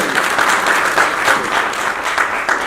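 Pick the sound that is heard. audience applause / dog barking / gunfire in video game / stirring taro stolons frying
audience applause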